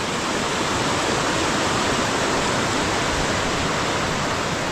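Creek water flows steadily under a small bridge on a hiking trail, a constant close rushing hiss with no change in level and no voices.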